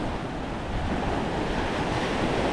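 Sea waves about one metre high roll and break steadily off the Tekirdağ shore during sea bass fishing, a dense continuous wash of surf mixed with wind noise, with no voices.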